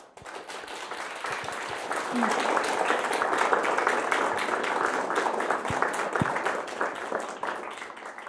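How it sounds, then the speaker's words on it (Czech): An audience applauds at the end of a talk show episode, a steady burst of clapping from many hands that swells and then tapers off, with a voice speaking briefly over it. "poprosím vás o potlesk pro Valerii."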